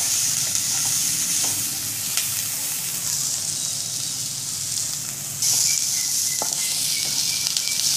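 Onions fry steadily in a pan for a drumstick bharta, a continuous close sizzle and hiss with a few small pops and clicks throughout, no one talking.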